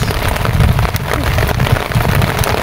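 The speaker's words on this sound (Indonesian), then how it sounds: "ini suka duka berburu ini guys hujan" Rain falls steadily at night on a fishing trip, a dense continuous patter of drops with a low rumble underneath, loud and close throughout, with possible faint voices in the background.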